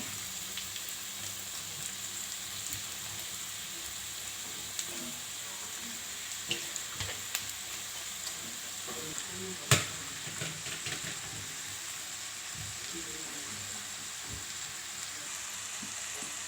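Rice and vegetables for restaurant-style Schezwan fried rice sizzle and crackle steadily in a hot pan, with a few sharp scrapes and clanks of the spatula against the pan.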